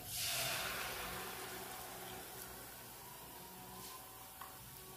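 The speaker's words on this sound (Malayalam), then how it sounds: "ഇനി ഇതിലേക്ക് ഞങ്ങൾ നേരത്തെ അരച്ച് വെച്ച ആ ഒരു ബാറ്ററി ഇതിലേക്കൊന്ന് ഒഴിച്ചു കൊടുക്കാം" Rice batter poured into shallots and coconut frying in hot oil in a pot, setting off a sudden loud hissing sizzle that softens into a steady, quieter bubbling fry.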